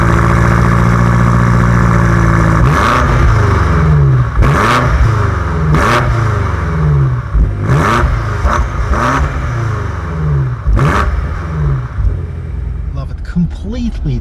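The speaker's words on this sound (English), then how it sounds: "what I really like about this car is the sound of the exhaust" A 2022 BMW M8 Competition luxury coupe's exhaust blips through a series of sharp revs over a deep, steady idle rumble, each rise falling quickly back, loud and close throughout the stretch.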